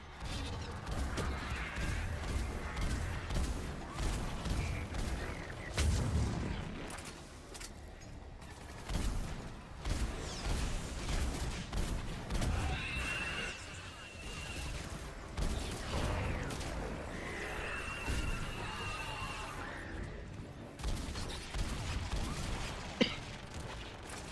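Missiles strike amid a Mass Effect battle with the Reapers, heard as bursts of blasts, crashes and rattling gunfire rising and falling, with mechanical whines between them, all fairly quiet and at mid distance.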